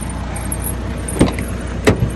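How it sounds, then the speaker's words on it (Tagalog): People climbing into a car, heard as two dull, close door thumps about two-thirds of a second apart, with a faint jingle and rustle and no talking. "Sasakay na naman kami sa sasakyan mga kababayan."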